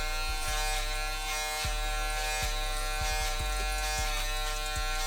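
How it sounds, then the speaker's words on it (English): An electric shaver buzzes loudly and continuously close up as it clears stubble from the head during a self haircut, with brief changes in tone as it moves across the scalp. "take your shaver and just get rid of all this stubble right here"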